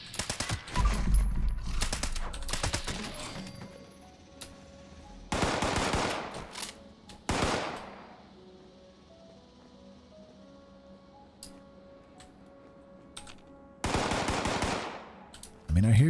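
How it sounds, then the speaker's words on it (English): Automatic gunfire in Fallout 76 Steel Reign gameplay, loud rapid bursts of machine-gun fire at intervals separated by quieter stretches of ambient game sound. "I hear you firing"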